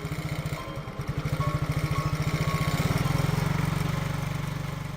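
A motorcycle engine runs steadily with a rapid, even putter that builds slightly in loudness as it rides along, close and alone.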